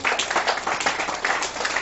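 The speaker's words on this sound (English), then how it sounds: "Clap your hand for this very God" Congregation clapping hands in a church service, a dense, steady wash of applause filling the whole stretch at moderate loudness, with no clear speech over it.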